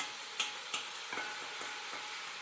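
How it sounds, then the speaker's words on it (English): Onions saute in a pot with a faint, steady sizzle, broken by a few light ticks and taps early on. "An onion or 2 in a pot, and let it saute for a while."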